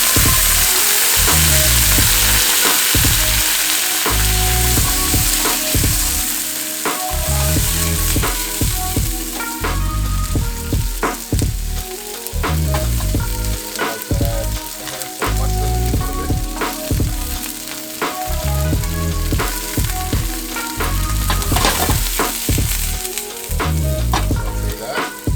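Green beans fry loudly in a hot pan, a thick, continuous sizzle broken by rhythmic stirring scrapes and clacks from the spatula, close up and without any talking.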